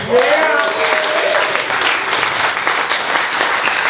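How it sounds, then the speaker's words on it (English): Loud, dense audience applause fills a comedy club or theater room throughout, with a voice briefly audible under it at the start. "You shouldn't clap."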